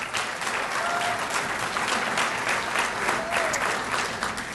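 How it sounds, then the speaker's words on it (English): Steady applause from an audience at a university athletic hall of fame ceremony, a sustained even patter of many hands clapping throughout. "another round of applause"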